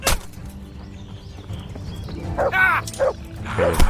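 A dog barks a few times in a Kingdom Come Deliverance game fight, short sharp yelps rising near the end over background game noise.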